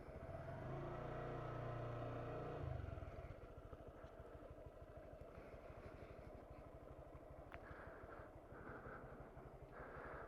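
A motorcycle engine runs loud and close, holding a steady revved tone at first, then dropping to a rougher, pulsing idle-like chug as the clutch is let out into the friction zone and pulled back in with the throttle released.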